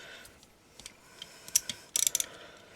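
A socket ratchet with an extension turns to loosen the barrel of a Browning Buck Mark pistol. Faint ticks lead into a short burst of quick, close metallic ratchet clicks near the end, with no talking.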